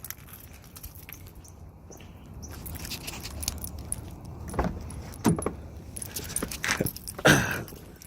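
Keys jangle near a 2005 Nissan Altima as someone tries to start it, with soft metallic rattles building toward several louder clinks and bumps at the end; no one speaks.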